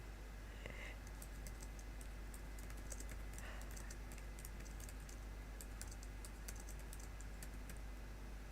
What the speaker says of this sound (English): You might hear a little bit of typing.